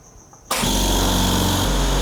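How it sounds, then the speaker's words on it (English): A Chicago Air Hush 150 air compressor starts up abruptly and runs steadily, a loud close motor drone with a constant hum that continues unbroken to the end. "Let's see what the compressor on looks like."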